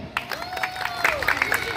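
Applause from a crowd of women at a Women's Day game-hosting event, a steady wash of clapping and cheering throughout the short moment, with a musical tone and faint chatter underneath.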